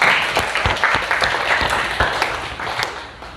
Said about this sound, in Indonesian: Beri aplaus buat kelompok A.